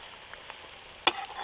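Small pieces of boiled egg frying in hot oil in a wok, a soft steady sizzle with one sharp crackling burst partway through; no talking.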